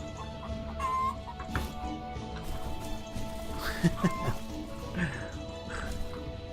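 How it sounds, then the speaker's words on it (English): Chickens cluck in the Medieval Engineers game, a few short clucks at moderate level over a busy game soundscape with clattering and a steady background bed. "you guys hear him clucking too, right? There's mother clucking chickens in there."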